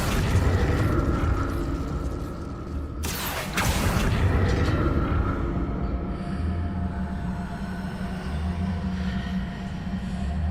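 Incendio fire spell cast in Hogwarts Legacy: a sudden loud roaring burst of flame partway through, rising out of a steady low rumble that continues afterward.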